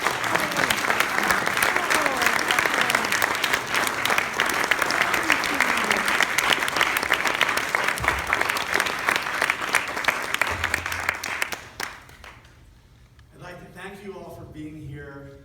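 A large indoor audience claps warmly and steadily for about eleven seconds before the applause fades out and a voice begins speaking.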